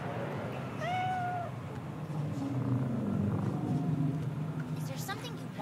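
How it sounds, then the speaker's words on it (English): A cat in Cyberpunk 2077 gives a short meow and then purrs softly while being petted, with a voice talking over it. "Pet the cat."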